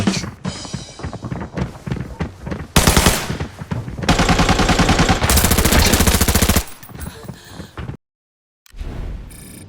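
P90 submachine gun firing in the video game Arena Breakout: rapid bursts of close, loud automatic fire with short pauses between volleys, then a brief dead silence before a few final shots.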